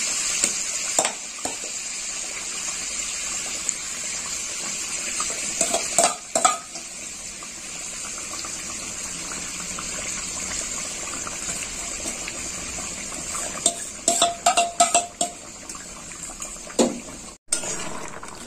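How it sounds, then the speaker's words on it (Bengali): Curd chicken curry is stirred in a pan, with a low simmering hiss under scattered spoon scrapes and metallic clatters that bunch into quick bursts, close by and without speech. "এবার আমি ভালো করে নেড়ে চেড়ে চাপা দিয়ে দেবো"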